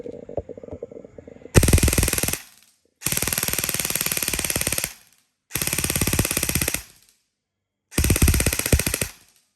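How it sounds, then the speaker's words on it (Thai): An E&C 338 electric airsoft gun on a low battery fires in four long bursts of rapid full-auto shots, loud and close, with a slightly sluggish rattle and silent gaps between bursts. "เสียงมันอ่อน คือแบตมันอ่อนนะ ปืนไม่ได้จะพังนะ"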